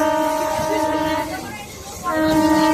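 A passenger train rolls along the rails, its steady rumble and rattle running throughout with a brief dip in the middle, while people talk over the noise.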